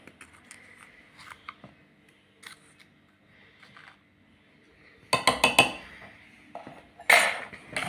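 Cupcake batter with milk is mixed in a bowl, giving off clinking, scraping utensil sounds, faint at first and then in louder bursts of close-up clatter toward the end.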